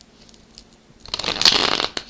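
A deck of tarot cards is shuffled by hand in one short, crisp riffling burst lasting under a second after a quiet pause, close to the microphone.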